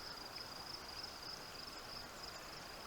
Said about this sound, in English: Just me and the crickets out here.